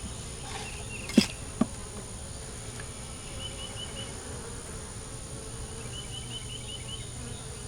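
Honeybees hum softly around a queen cell in a hive, a faint, steady buzz with a couple of sharp knocks near the start.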